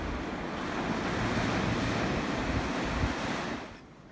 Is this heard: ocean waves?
yes